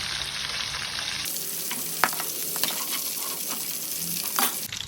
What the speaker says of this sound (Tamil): ஸோ இது கொஞ்சம் ஷாலோ ஃப்ரை பண்ணி எடுக்கலாம்